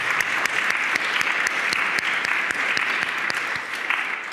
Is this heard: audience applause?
yes